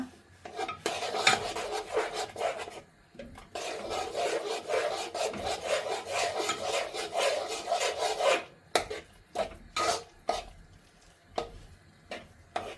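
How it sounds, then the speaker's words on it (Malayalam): Crushed coconut mixture being stirred by hand for poricha pathiri, a steady scraping and rasping of utensil against bowl for about eight seconds, then sharper separate scrapes and knocks, close and fairly quiet with no talk. "ഇനി ഇത് നന്നായി ഇളക്കിയെടുക്കുക"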